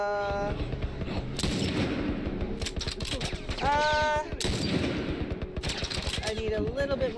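Rapid bursts of gunfire from the player's weapon in The Last of Us, loud and close, with clustered shots firing in quick succession over the game's score, with no talk.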